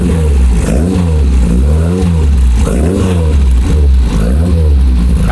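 A loud, rough engine of an old Opel Manta A Irmscher Group 2 rally car, over 200 hp, idling close by, throbbing in a steady lumpy rhythm with slight surges.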